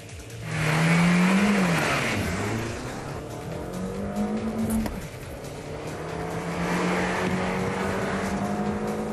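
An Audi A4 engine revs hard at full throttle from 0 to 60, climbing through the gears up to the rev limiter, pitch rising then dropping at each shift, loud and close with a steady roar.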